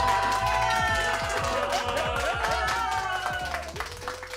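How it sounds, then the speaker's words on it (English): Audience at a comedy show clapping and cheering for a comedian after his set, lively continuous clapping with whoops and shouts, with a voice talking loudly over the crowd. "y'all clapping up for Marlon Mack."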